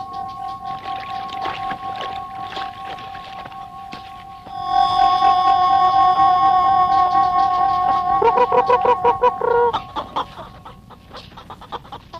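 Chickens cluck and a rooster-like call rises loudly with sustained tonal cries over rhythmic clucking, close by and fading toward the end.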